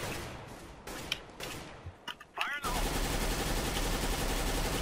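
Rapid gunfire in the video game CS:GO, with short bursts of shots followed by a dense, sustained stretch of loud automatic fire.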